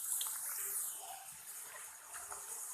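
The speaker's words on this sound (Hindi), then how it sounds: "और इन्हें उस टाइम तक फ्राई करेंगे जब तक ये क्रिस्पी नहीं हो जाते।" Potato chips frying in hot oil give off a steady, bright sizzling hiss with faint crackles, continuous and even throughout, with no voices.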